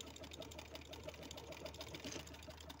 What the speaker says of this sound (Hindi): अभी देखिए, जब मैं सिलाई लगाती हूँ आपके सामने,